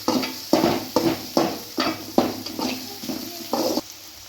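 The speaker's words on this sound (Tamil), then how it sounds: "இப்போ கலந்து விட்டுக்கலாம்." Carrots stirred in a pan while making vermicelli upma: about eight sharp, rhythmic scrapes and clatters of a spoon against metal, close and loud, with a soft sizzle underneath.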